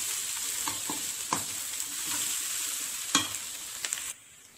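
Raw plantain pieces being stir-fried in a pan: a steady close sizzle with repeated scraping strokes of a spatula, a few sharper clicks near the end before the frying cuts off.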